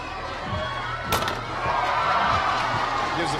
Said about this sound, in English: gives the fans a little something to cheer about after the foul